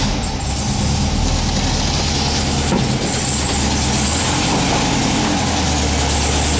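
A car engine idles with the transmission in neutral, a steady low rumble held close and loud throughout, with a faint high hiss above it.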